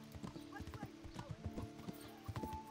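Horse hooves clip-clop steadily with an occasional neigh in Kingdom Come: Deliverance, the rhythmic steps close and moderately loud while a person talks over them.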